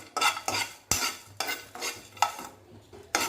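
Spices for a paneer dish being stirred as they roast in a pan, heard as a series of quick, close scraping strokes with a soft sizzle underneath, and no voices.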